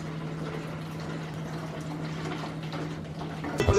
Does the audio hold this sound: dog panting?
no